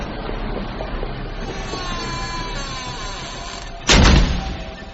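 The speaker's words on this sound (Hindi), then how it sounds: "कमरे का दरवाजा जोर की आवाज से अचानक बंद हुआ" A hotel room door bangs shut in a single heavy, close slam that cuts through a steady rumbling background near the end, with no voices.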